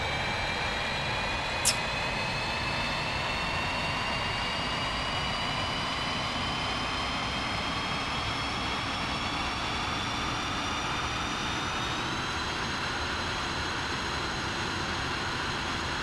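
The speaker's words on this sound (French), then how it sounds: "Voilà, le moteur 2 va se mettre en route bientôt là." An F-5 Tiger fighter jet engine spools up with a continuous roar and high whining tones that slowly climb in pitch, loud and steady throughout.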